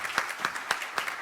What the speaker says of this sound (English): A round of applause for Stuart, please